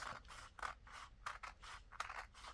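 Scissors snip along the edge of a paper envelope, several short crisp cuts in an uneven rhythm, close and fairly quiet with no voices.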